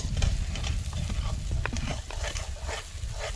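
Onion fried and stirred in a frying pan for a village-style vaghar of rotlo, a close, continuous sizzle with spatula scrapes and a low rumble underneath.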